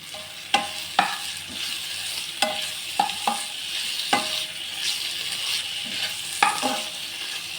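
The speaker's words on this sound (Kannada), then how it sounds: "ನೆಕ್ಸ್ಟ್ ನಾನು ಲಾಸ್ಟ್ಗೆ ಕರಿಬೇವನ್ನ ಸೇರಿಸ್ತಾ ಇದ್ದೀನಿ" Curry leaves hit hot oil in a pan, giving a continuous sizzle broken by sharp crackling pops and spatters spaced irregularly, close and fairly loud, with no talking.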